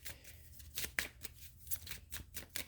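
Deck of California Love tarot cards being shuffled close up in a quiet room, a run of soft riffling bursts and sharp card flicks repeating in an uneven rhythm.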